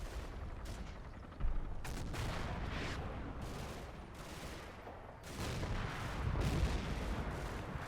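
In Combat Mission, a WWII hedgerow battle game, anti-tank gun and mortar fire sounds at a distance as a run of booms and crackling shots. One sharper thump comes early and a louder rumbling burst comes later, with no speech.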